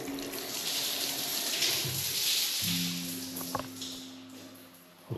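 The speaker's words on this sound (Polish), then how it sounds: "Automatycznie się prysznic włączył." An automatic shower in a villa bathroom sprays steadily with hissing running water, with a low tonal hum entering midway and a few faint knocks and drips.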